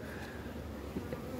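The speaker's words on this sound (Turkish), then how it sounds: "Arı agresifleşti." Agitated honey bees buzz around a hive in a quiet, faint, continuous drone, with a few louder passes as individual bees fly close.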